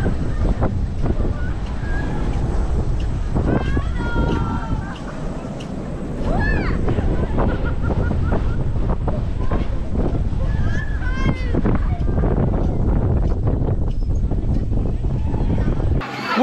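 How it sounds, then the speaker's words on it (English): Strong wind buffets the microphone at the top of a lighthouse-style tower ride at a holiday park, a steady loud roar throughout, with a person talking over it. "we successfully seeked some wind and certainly got some wind up there"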